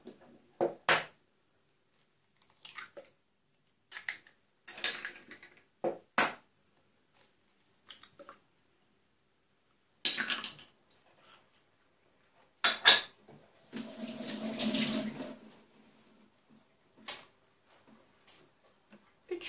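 Eggs being cracked into a bowl for a caramel banana cake batter: several sharp, close taps and clicks on the bowl rim, spaced irregularly, then a longer scraping, clattering stretch of shell and bowl handling, no talking.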